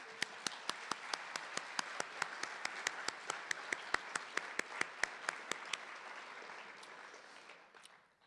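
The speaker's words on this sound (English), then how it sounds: "We'll give them a big round of applause to start off the night tonight." Audience at a high school scholarship awards night applauds the scholarship fund members: a crisp, evenly paced series of sharp nearby claps over a softer bed of crowd clapping that thins out toward the end.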